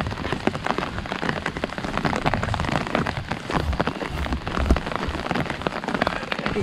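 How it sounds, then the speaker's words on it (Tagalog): Heavy rain pours steadily on a rural provincial road, a dense continuous hiss of drops hitting the ground close by, with no voices. "Lakas ng ulan."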